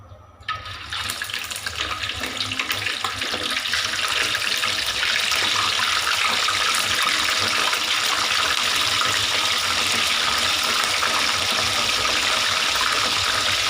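Scored fish frying in hot oil in a wok, a loud, continuous crackling hiss that swells up within the first second and holds steady throughout, with no voices.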